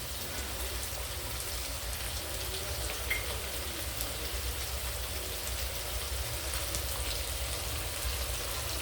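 Washed red lentils (masoor) sautéing in hot oil in a pan, giving a steady, even, rain-like sizzle that holds at the same level throughout, with no voices.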